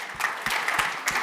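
Audience applause at a conference session as people are called up on stage, a short burst of clapping with regular swells, moderately close and without talk over it.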